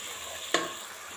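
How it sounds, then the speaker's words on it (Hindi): Tomatoes, green chillies and ginger-garlic paste fry in a pan for a potato and egg curry, giving a steady close sizzle broken by one quick stir or scrape. "इसको अच्छे से भून लेंगे।"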